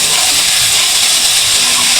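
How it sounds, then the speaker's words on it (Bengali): Pasta poured into a hot pan and fried with scrambled egg gives a loud, steady, close sizzling hiss that holds unbroken throughout. "এখন আমরা পাস্তাটা ঢেলে দিব।"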